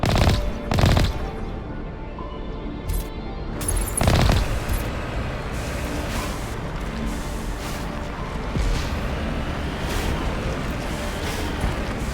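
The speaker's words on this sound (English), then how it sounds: "Who else is shooting at me?" Bursts of gunfire in the video game Mass Effect, sharp shots and short rapid volleys spread across a busy, continuous combat din, loud and close with no talk.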